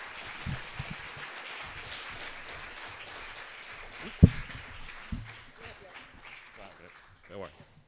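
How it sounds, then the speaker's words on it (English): An audience applauds at a CreativeMornings New York talk: a soft, continuous patter of clapping heard from a distance, with a few louder claps near the middle and a voice speaking over it. "One more round of applause."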